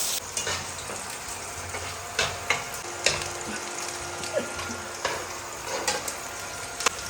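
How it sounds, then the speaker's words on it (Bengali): Chopped onion frying with cumin in hot oil, a steady soft sizzle punctuated by repeated scrapes and clicks of a stirring spoon against the pan, close and fairly quiet. "পেঁয়াজ কুচি। লাল লাল করে ভেজে নেব।"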